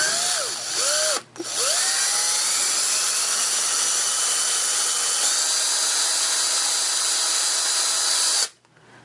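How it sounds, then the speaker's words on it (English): A power drill drilling out a rivet whirs up in a few short bursts, then runs steadily at a high, loud whine before stopping abruptly. "then you'll drill the rivet off center"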